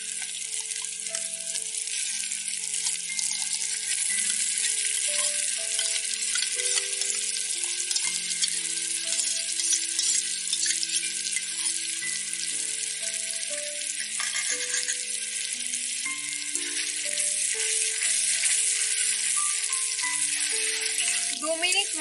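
A yogurt-based spice paste for Bengali chicken dopiaza sizzles and fries in a pan, a steady bright crackling hiss throughout, with soft background music underneath.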